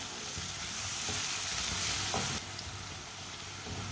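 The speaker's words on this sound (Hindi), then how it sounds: "1 मिनट के लिए मैंने लहसुन और अदरक को भी पका लिया है।" Steady frying sizzle of garlic and ginger in a pan with occasional stirring scrapes, fairly quiet and continuous, no voices.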